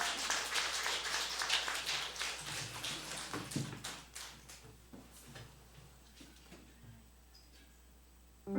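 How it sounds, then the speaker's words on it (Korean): Applause from a church congregation welcoming a singer during a Sunday worship service, a dense burst of clapping that is loudest at the start and thins out, fading to sparse claps over about eight seconds. "우리 다 같이 박수로 환영하겠습니다"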